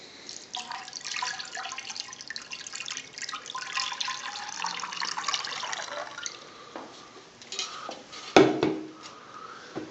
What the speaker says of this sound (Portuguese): Quando eu coloco água